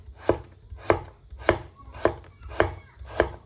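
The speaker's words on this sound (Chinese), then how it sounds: "接下来我们给它改刀，切成薄薄的厚片。" A knife slices peeled, seeded pumpkin into thin pieces on a cutting board, six evenly spaced firm cuts about half a second apart, close and clear with no talk.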